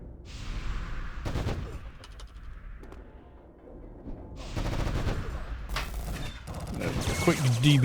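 Gunfire fills a subway raid in the online game Anarchy Online, with repeated bursts of shots and fusillades crowding in among mechanical effects and game sounds. The bursts are loud and come close together, and chatter runs underneath.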